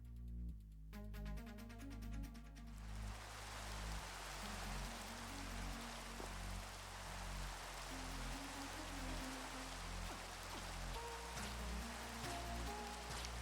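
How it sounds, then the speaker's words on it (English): Minecraft rain falling in a video game, a continuous soft patter with low, steady background tones underneath and no speech. "it's raining once more in Minecraft."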